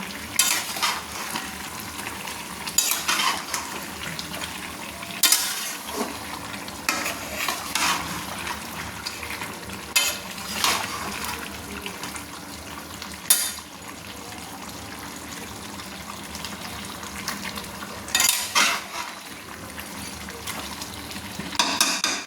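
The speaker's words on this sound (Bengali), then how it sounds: "দিয়ে মটনটাকে সুন্দর করে নেড়ে নিচ্ছি" Mutton stirred with yogurt in a hot pan makes a continuous low sizzle, broken every few seconds by louder scraping strokes of a spoon against the pan.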